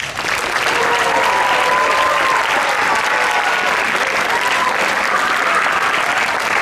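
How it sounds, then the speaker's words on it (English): Sustained audience applause at a school band awards and dance-off event, dense and steady clapping from a large crowd, loud and continuous with faint voices mixed in. "So I'd like to give them a special round of applause."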